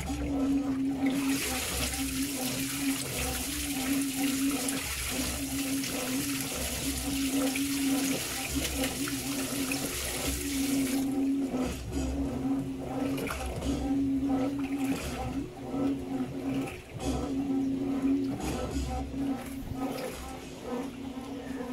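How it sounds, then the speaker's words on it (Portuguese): A Samsung washing machine runs its rinse cycle, with water pouring and splashing steadily into the drum alongside a low rhythmic mechanical hum; another machine works nearby in a laundry setting. "Vamos ver o enxágue da Samsung, eu acho que ela já encheu."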